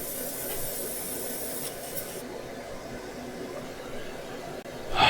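An airbrush sprays cleaner through its nozzle, giving a soft, steady hiss of air and fluid at close range that runs for several seconds before a brief louder burst at the end.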